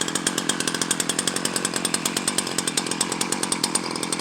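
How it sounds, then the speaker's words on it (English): A Ryobi 14-inch chainsaw runs steadily at idle, its engine giving a rapid, even buzzing pulse that is close and loud, with no talking. "Changing the chain on the 14-inch Ryobi chainsaw."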